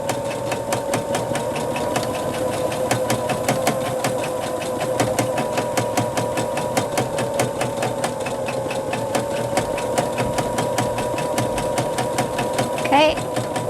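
A sewing machine runs steadily while free motion stitching a Winter Moon pattern quilt, its fast needle rhythm rattling on without a break as a voice talks over it.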